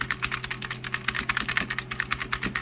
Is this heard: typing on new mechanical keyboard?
yes